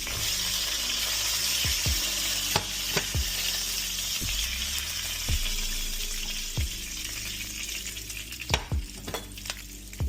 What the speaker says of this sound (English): You're gonna saute your onions.